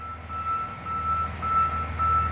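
A truck's reversing alarm beeps steadily and repeatedly over a low rumbling engine idle, fairly close, with no talking.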